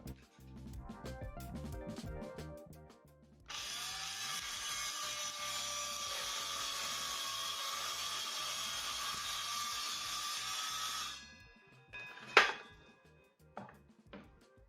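A Milescraft track saw guide rail steering a circular saw through a wood panel: a steady loud whining cut of about seven seconds, with clattering setup handling before and a few sharp knocks after.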